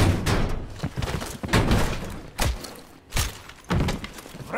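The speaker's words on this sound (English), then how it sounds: "Open the door." A door is opened in the Call of Duty Cold War video game, with a series of heavy thuds, bangs and scraping clunks in irregular bursts, close and loud.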